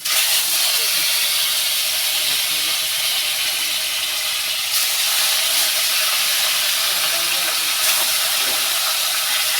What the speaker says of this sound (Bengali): তো দেখো আমি এখানে মাছের নুন হলুদ মেখে নিয়েছি আর আমি কড়াতে তেলও বসিয়ে দিয়েছি দেখো তেলটা গরম হয়ে গেছে তো এবার আমি মাছটা ভেজে নেব